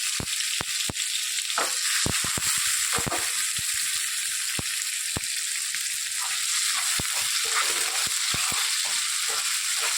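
Onion, tomato, garlic, black pepper, cloves and a small piece of cinnamon sizzle and crackle in hot oil, a continuous close frying hiss with repeated sharp pops and some stirring scrapes.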